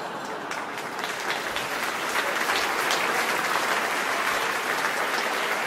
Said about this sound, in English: Applause, that's new.